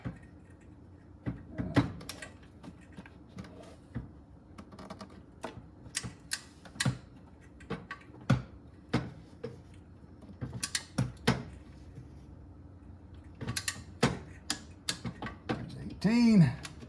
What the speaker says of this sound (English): now I'm gonna get the torque wrench and torque them down